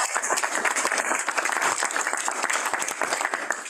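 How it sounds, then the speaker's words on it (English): Audience applause for Raphael at a research data science school session, a lively, continuous patter of many hands clapping at moderate volume without a break. "let's give Raphael a round of applause."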